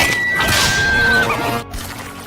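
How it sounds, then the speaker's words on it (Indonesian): Horses whinny in a film scene where four riders are ordered to move off: a loud, high, wavering neigh rises and falls over a busy background for about a second and a half, then fades into quieter rumbling. "Dimana saat Harper memerintahkan keempat penunggang kuda tersebut untuk jalan, inilah yang terjadi"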